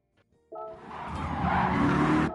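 Race car in Gran Turismo 4 losing control after contact with a Corvette and Sylvia, tires squealing in a loud sustained skid that swells for about two seconds before cutting off.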